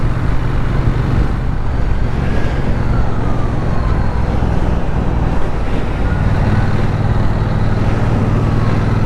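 Emergency vehicle running its siren through traffic near a parking lot, with a steady road and engine rumble throughout and faint rising and falling siren tones over it, no talking.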